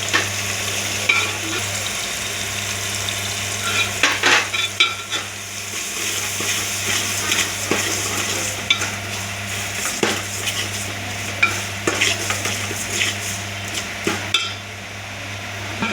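Onions frying and being stirred in a pan for a Tamil brinjal and dried fish tamarind curry, with a steady sizzle under irregular scraping strokes and occasional clinks of the utensil against the pan.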